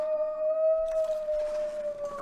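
Wolves howl in The Long Dark, a survival video game: one long, steady, sustained tone holds through the whole clip with a faint second tone above it. Soft background rustles and thumps come in partway through, and there is no speech.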